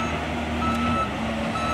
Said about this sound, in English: that noisy old blinking truck backing down here